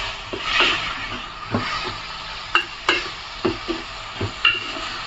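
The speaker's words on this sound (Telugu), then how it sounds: "కట్ చేసి పెట్టుకున్న ఉల్లికాయలు వేసుకొని ఒక స్పూన్ సాల్ట్ వేసుకొని ఫ్రై చేసుకోవాలి" Onions and tomatoes frying in a pan for a village-style egg, dry fish and drumstick curry: a steady soft sizzle with repeated scraping stirs of a spoon against the pan, close and without talk.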